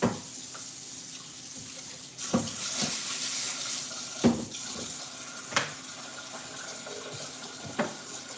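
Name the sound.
rinsing under running water from a tap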